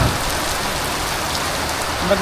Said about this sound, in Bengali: বৃষ্টি দেখতেছি তুমি কি বৃষ্টি দেখাও